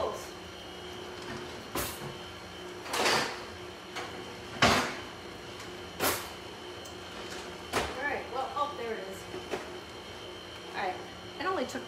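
Kitchen drawers sliding open and shut in turn, several sharp thuds and rattles spaced a second or two apart, with a person talking between and over them.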